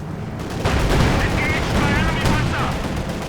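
Rapid rifle gunfire and artillery rumble from the World War II strategy game Company of Heroes 2, a loud dense battle din with crackling shots and low booms, voices mixed in.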